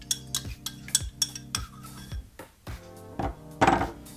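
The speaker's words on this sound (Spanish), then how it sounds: "Y vamos a batir para que se integre perfectamente." A metal whisk beats melted butter into a dough mixture in a bowl for carnival orejas pastries, giving loud rhythmic clinks and scrapes against the bowl with brief pauses, close and busy with no talk.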